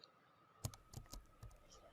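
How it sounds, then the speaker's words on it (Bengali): A phone number being entered on a computer keyboard: a short run of quiet, close key clicks, irregular in rhythm, over a faint steady hum with no talk. "আমি টাইপ করে দিচ্ছি"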